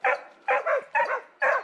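A hunting dog barking in four sharp, close, yelping bursts with short gaps, some doubled, while holding a wild boar during a hunt.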